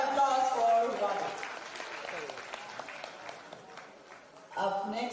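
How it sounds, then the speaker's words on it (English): Audience applause at an international women's seminar, clapping heard under and between a presenter's voice, fading midway and swelling again near the end. "Ladies, please give a huge round of applause for Vade."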